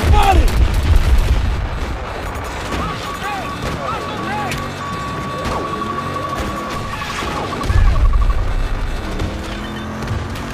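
Heavy cannon blasts and explosions from the Battlefield 2042 video game, with booms at the start and again near the end, fired at a hostile tank, under radio chatter and a steady whining tone.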